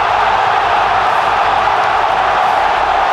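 A packed Camp Nou stadium crowd roars steadily for Pedri's goal, a dense, loud, continuous wash of cheering with no pauses.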